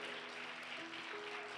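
A church congregation claps together in a dense, steady round of applause, faint and slightly distant, with a sustained musical tone underneath.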